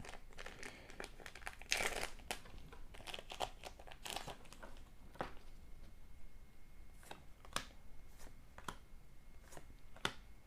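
Yu-Gi-Oh booster packs are torn open one after another, with crisp foil crinkling and tearing in scattered bursts, close but quiet against a soft background.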